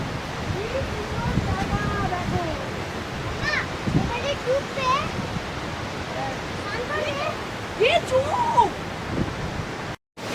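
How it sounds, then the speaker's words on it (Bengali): Rimbi river in South Sikkim rushing steadily as a broad, continuous roar of flowing water, with a person talking intermittently over it. "রিম্পি নদীর আওয়াজটা শুধু দেখো"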